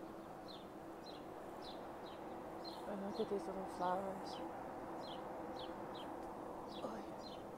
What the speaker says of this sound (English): I have no idea where this bird is coming from